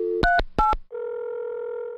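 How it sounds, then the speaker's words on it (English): A telephone dials out: two quick pairs of touch-tone beeps, then a steady tone holds, clear and alone with no talk. "His fingers dialing the mayor's action line once again."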